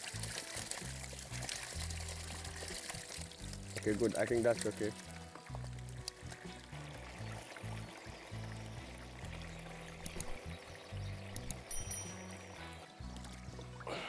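Water being poured into a barrel used to transport fish fingerlings, gurgling and splashing close by in uneven bursts, louder near the middle, with a person talking briefly over it.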